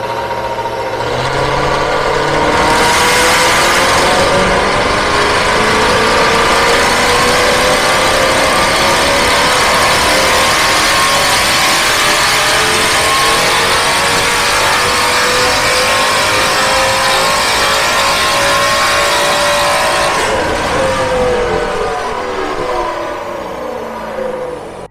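Mercedes-Benz C63 AMG with a 6300 cc V8 and straight-pipe exhaust, revving loudly and continuously up close, its raspy roar rising and holding for most of the stretch before easing off, with no voices.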